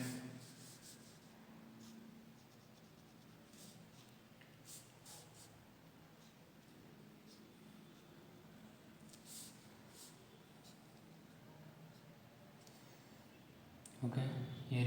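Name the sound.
drawing an op amp integrator circuit on a board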